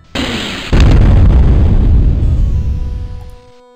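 A Fire Seed spell detonates in the Ravenloft: Stone Prophet video game, a loud close blast that swells into a sustained rumbling roar for about three seconds before cutting off.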